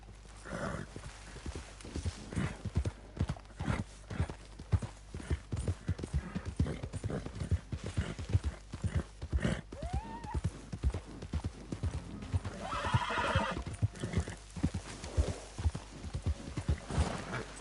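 Horse hooves clip-clop in a steady galloping rhythm through Red Dead Redemption 2, with a whinny rising partway through and rustling texture underneath, the hoofbeats loud and close for the whole stretch.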